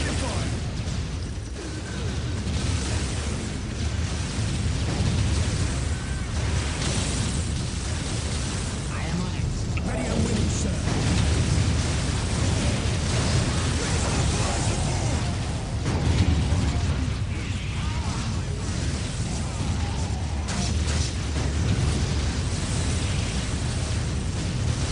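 Repeated artillery-style bombardment blasts in the strategy game Dark Crusade, rumbling bursts and booms continuing steadily over dense battle noise, with someone talking throughout.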